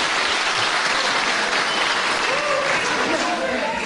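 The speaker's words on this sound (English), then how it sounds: "Johnny Saint clapping his hands together, making sure the referee spots that both shoulder blades are off the" Wrestling match crowd applauding continuously and loudly, a dense steady wash of clapping with a commentator's voice running over it throughout; the wrestler's own hand claps are not distinguishable within the crowd noise.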